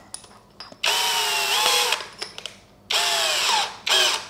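A BULL BL26Li cordless brushless impact drill whirs loudly in several bursts while drilling a hole with a larger bit, two longer runs and a short one, with brief pauses and small clicks between them.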